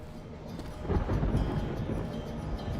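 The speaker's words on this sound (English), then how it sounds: "Was that just the roar of the thunder, or was there something else?" Low thunder rumbles in Amnesia: Rebirth, swelling from quiet to a heavy, sustained roll that lingers to the end, with no voices.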